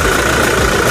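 A loud, steady diesel car engine idles close by with a rough, knocking rumble and a constant mid-pitched hum.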